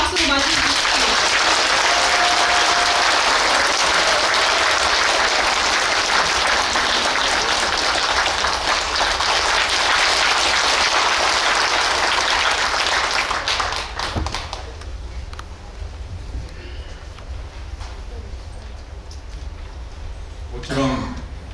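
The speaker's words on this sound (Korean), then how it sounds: "여러분 뜨거운 박수로 맞이해주십시오." A large audience at a human-rights lecture claps in sustained, loud applause for an arriving keynote speaker, holding steady for about fourteen seconds before dropping away to quieter room noise and a few scattered claps.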